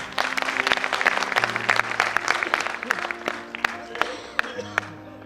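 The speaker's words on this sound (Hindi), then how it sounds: "आपको उसके लिए तालियां बजानी चाहिए" An audience at a Hindi kavi sammelan poetry gathering claps steadily and loudly, with sharp individual claps standing out through the dense applause as it thins toward the end; voices sound underneath.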